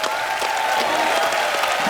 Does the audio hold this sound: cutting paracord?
no